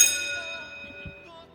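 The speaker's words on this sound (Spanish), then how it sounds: "suena la campana" A single bell strike rings out clearly, its bright metallic tone decaying over a second or so, with faint voice sounds underneath.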